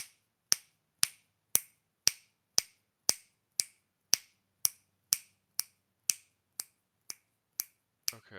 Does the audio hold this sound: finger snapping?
yes